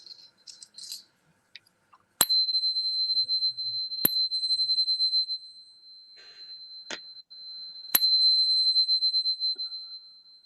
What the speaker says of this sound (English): give us those ringing bells, singing chimes, Kofunya.